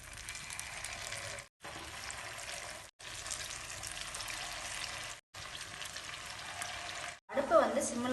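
Batter for bungalow palagaram frying in hot oil on a stove: a steady, close hiss and crackle of sizzling, interrupted by several short silent gaps, with a brief bubbling flare at the end.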